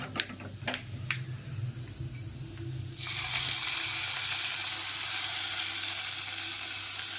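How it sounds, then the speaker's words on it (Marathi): Hot oil tempered with red chili powder hits a pot of dal khichdi, bursting into a loud, sustained sizzle after a few soft clinks and stirring sounds, then crackling steadily and close by. "त्याला मस्त आपला तडका असा रेडी होतोय रेडी झाला आहे आता आपण त्याला त्याच्यामध्ये घालूया"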